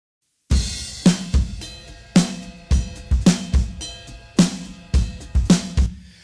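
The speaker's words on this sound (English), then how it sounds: "So the whole drum kit sounds like this now." A whole drum kit mixed with distortion and parallel compression, pounding out a driving beat of heavy kicks, cracking snares and bright cymbals, loud and dense with no voices.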